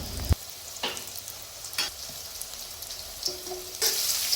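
Radish stir-fried in a pan until lightly browned crackles with a constant close sizzle, broken by several spatula knocks and scrapes at irregular intervals.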